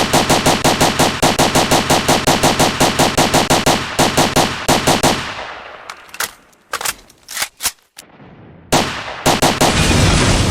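A working turret in the STALKER video game fires its machine gun in a loud, rapid, steady burst of shots lasting several seconds, followed by scattered sharp gunshots and then another stretch of sustained fire.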